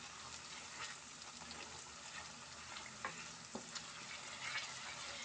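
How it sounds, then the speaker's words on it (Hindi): Onions frying in cooking oil for biryani, a steady bright hiss and crackle of sizzling with a few sharper pops and stirring scrapes, close and continuous. "मैंने कुकिंग ऑयल डाला था, इसमें अनियन डाल दिए हैं, ये अब हो जाएंगे फ्राई"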